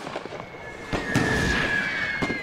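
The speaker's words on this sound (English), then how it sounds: "it's a bloody mortar" A mortar firing in the World War I game The Great War, one heavy concussive blast followed by a sustained rumbling roar and a steady high ringing tone, loud and close, with fainter thuds before it.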